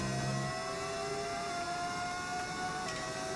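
A rival's Ford or Red Bull Formula 1 engine whines close behind in the racing game F1 25, a steady high-pitched droning tone that holds at an even loudness.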